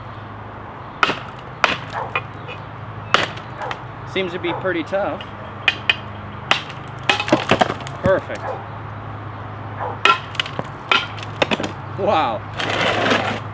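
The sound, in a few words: hammer blows on a ZT 0180 knife blade during destruction test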